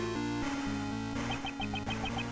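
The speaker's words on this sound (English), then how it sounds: "That's Courtney's cell phone" A video game cell phone ringtone of short electronic chirps repeating in a quick, steady pattern over a low droning background.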